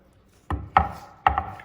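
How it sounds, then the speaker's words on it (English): Three sharp chopping thuds of a cleaver cutting mint leaves on a cutting board, spaced unevenly, close and fairly loud. "Then I'm gonna use my favorite kitchen tool, which is my cleaver."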